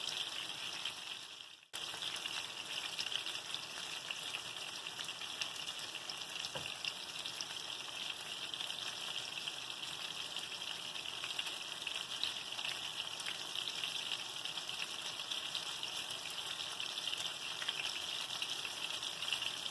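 Slices of white Mexican or Italian squash fry in hot oil with a steady, close sizzle and bubbling that runs almost unbroken throughout, dipping only for a moment near the start.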